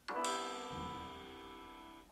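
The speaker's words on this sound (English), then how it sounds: "You can see the current notification sound." A Samsung Galaxy A13 5G notification tone plays as a preview: a quick bright two-note chime that rings clearly and fades over about two seconds, heard alone without speech.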